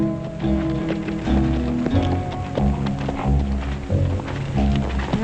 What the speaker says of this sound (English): that's what I call a horse.